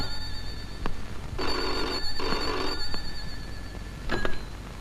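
A telephone bell rings in two long bursts with a short gap between them, followed by a shorter burst and a few faint clicks under a low background hum.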